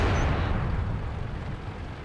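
A T28 Prototype tank gun fires in World of Tanks: one heavy, loud boom that rolls off into a long, low rumbling tail over two seconds. No voices are present.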